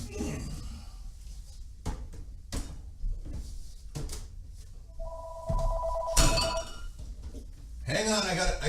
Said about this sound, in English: Hang on, I gotta get this phone call.